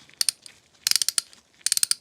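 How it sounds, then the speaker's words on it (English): Vintage 1961 Snap-on F-70R 3/8-inch drive ratchet clicking in three short rapid bursts of sharp metallic pawl ticks, close and clear with no talk. "see if it's ratcheting"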